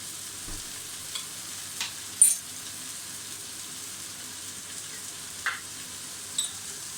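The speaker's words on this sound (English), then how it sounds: "Okay, now I will add in some the garlic." Garlic frying in a hot wok for a Chinese cabbage stew, a quiet steady sizzle with a few soft clinks and stirring scrapes scattered over it.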